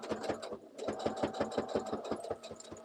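Sewing machine running steadily along a fabric edge, a fast rhythmic mechanical chatter at fairly low volume, continuous throughout with no talk.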